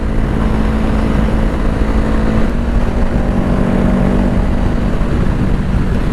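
A Honda CBR500R sport motorcycle with a full exhaust roars continuously at a steady idle-like rumble, loud and close, with a deep throbbing drone and no pauses.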